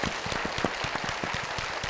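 Studio audience applause closes a round of the Vietnamese game show Đuổi Hình Bắt Chữ: dense, continuous clapping from many hands, close and steady throughout.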